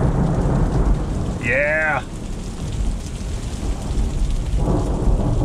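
Heavy rain pours down loudly in a desert thunderstorm, a dense steady roar, while a man briefly cries out excitedly partway through.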